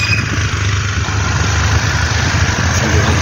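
Several motorcycle engines idling close by, a loud, steady low rumble with a rapid throbbing pulse that continues unbroken and without speech.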